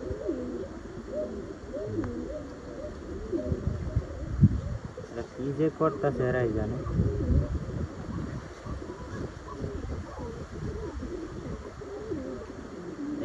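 Pigeons kept in a loft, including a red bird and blue and black ones, coo in low, wavering calls under gusty wind, with someone speaking quietly nearby.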